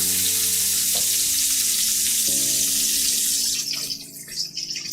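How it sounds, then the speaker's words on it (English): Bacon frying in a pan gives off a loud, steady sizzle with crackling spatters. The hiss thins out and grows more uneven near the end. "cooking bacon in a pan"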